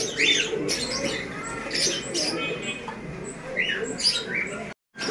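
At a pigeon market, pigeons coo and chirp amid a busy murmur of background chatter and noise, with brief louder calls scattered through.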